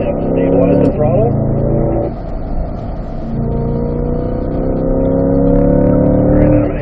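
A Corvette C8 accelerates through the gears on a race-track driving course, its engine a loud, steady drone that rises and shifts in pitch, while an instructor talks over it close by.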